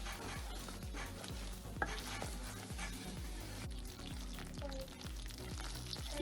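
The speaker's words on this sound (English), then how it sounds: "Just keep stirring it." Milk barfi mixture sweetened with jaggery is stirred steadily in a pan over a low flame, repeated rhythmic spoon strokes scraping through the thick mixture with a faint sizzle beneath, close and continuous.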